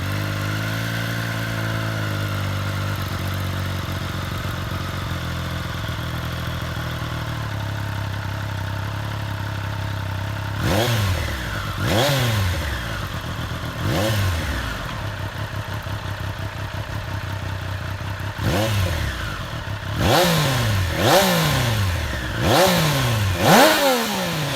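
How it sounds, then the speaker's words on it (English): A Triumph Street Triple R's 765cc liquid-cooled three-cylinder engine idles steadily, then revs sharply several times in quick blips, each rising and falling back to idle, loud and close. "powering the Street Triple R is the same 765cc 3-cylinder liquid-cooled engine"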